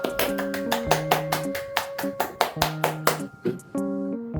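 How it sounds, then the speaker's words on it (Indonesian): Rhythmic clapping-like taps over a steady musical jingle with held tones, rather than a burst of crowd applause; the hits are regular and fairly loud. "Tepuk tangan."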